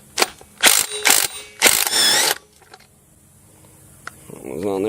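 A 19mm ratchet works loose the clutch on a Stihl 028 chainsaw, giving several quick bursts of clicking, ratcheting pawl noise close up, followed by quieter handling sounds of metal parts.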